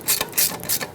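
A ratchet snugs a front brake hose fitting on a 2008–2010 Ford F-250 Super Duty, giving three quick, close bursts of sharp pawl clicks with brief pauses between strokes.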